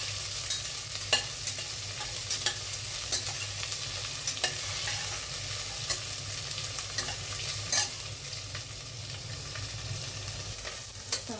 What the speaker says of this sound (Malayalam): ഇട്ട് നന്നായി ഒന്ന് ഇളക്കി കൊടുക്കാം.